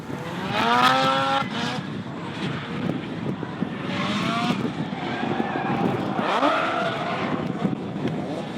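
Drift cars compete at a D1NZ Pro-Am round in Taupo, including a Nissan C33 Laurel, engines revving and rising in pitch with tire noise and crowd ambience, a steady loud roar with several surging passes.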